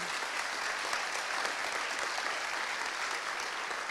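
A conference keynote audience applauds the caterer with a steady, even wash of clapping from many hands, continuous throughout at moderate level.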